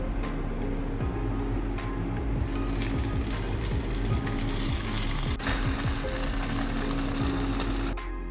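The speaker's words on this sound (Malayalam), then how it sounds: "ഇനി നമ്മളിതിലേക്ക് കടുക് വറുത്തത് ആഡ് ചെയ്യാൻ പോവാണ് കേട്ടോ" Mustard seeds fried with dried red chillies and curry leaves are poured into a kilichundan mango curry, giving a steady, loud sizzle and crackle that runs without a break through the whole stretch.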